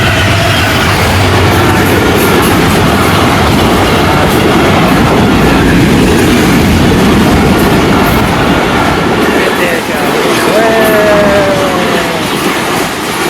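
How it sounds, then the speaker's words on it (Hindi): A train rolls past a closed level crossing gate, its steady loud rumble and clickety-clack of wheels filling the whole stretch, with a brief wheel squeal near the end. "अभी जो है रेलगाड़ी आ चुकी है"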